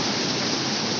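Strong water flow at the Sanichra waterfall, a dense steady roar of falling and rushing water filling the whole short stretch, loud and continuous with no voices.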